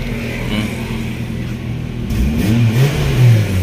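A Kia Picanto with a holed, noisy exhaust revs up from idle, a loud, close engine note rising and falling in rough bursts.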